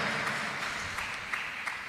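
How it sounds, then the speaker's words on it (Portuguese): A church congregation applauds during a sermon, a steady wash of many hands clapping at moderate distance, continuous for about two seconds with a few louder claps standing out. "Pode aplaudir a Jesus se você crê nisso."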